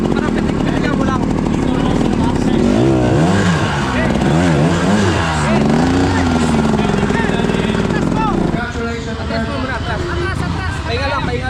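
A racing motorcycle engine at a race in Alviera, Porac, Pampanga revs up and down in repeated swells, loud and close, under nearly constant talk and crowd chatter.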